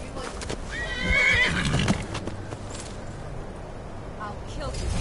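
A horse in the video game Skyrim neighs loudly with a shrill whinny, hooves clopping around it, while a person talks over the game audio.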